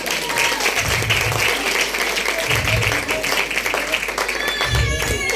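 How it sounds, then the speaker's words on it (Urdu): A church congregation breaks into loud, sustained applause during a Christmas sermon, with thick continuous clapping, low thumps now and then, and scattered voices underneath. "یسوع کے لیے زوردار تالیاں"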